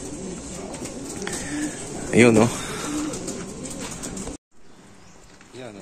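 Racing pigeons coo near the loft on a hot race day, a soft repeated burble with a louder coo near the middle, while someone talks over it and the background cuts off abruptly near the end.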